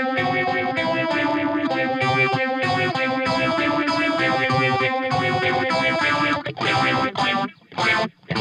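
Guitar run through a Cuvave Cube Baby effect pedal set to maximum, heavily distorted and modulated chords and notes sounding loud and continuous, with brief gaps near the end.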